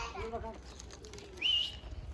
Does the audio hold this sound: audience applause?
no